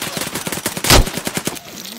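Rapid bursts of automatic gunfire in a first-person shooter video game, loud and close, with a heavier single blast midway through a fast string of shots.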